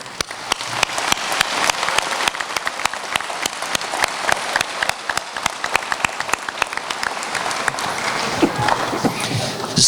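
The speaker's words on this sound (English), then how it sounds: "A round of applause for all of you." Loud, close applause from a crowd at an executive award ceremony, sustained clapping with many sharp individual claps throughout.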